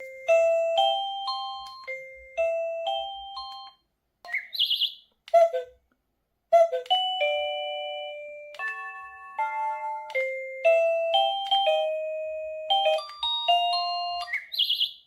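A MUBVIEW wireless doorbell chime plays several melodic tunes in turn, clear and close, with brief pauses between the different ringtones.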